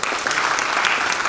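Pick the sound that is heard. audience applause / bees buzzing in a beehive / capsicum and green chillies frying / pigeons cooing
audience applause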